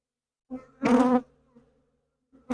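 Honeybees buzz in short bursts around an opened hive where the queen is moving about, with a few close, separate drones and quiet gaps between them.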